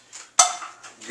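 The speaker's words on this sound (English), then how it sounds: "now we're going to add 2 eggs" Eggs being cracked into a bowl of ground meat mixture for Hungarian hamburgers: a short knock followed by a sharp close clink and brief rattle, then a couple of faint soft taps.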